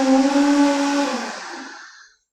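A blender whirring through smoothies in a coffee shop, a loud tonal motor whine that holds steady, then winds down and cuts off to silence.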